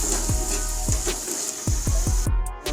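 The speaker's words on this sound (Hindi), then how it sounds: "अब मसाले को हम 1 मिनट मज़ीद भूनेंगे।" Masala roasting in a pan for egg masala: a soft sizzle runs underneath while a utensil knocks against the pan in a loose, repeated rhythm of about half a dozen distinct thuds.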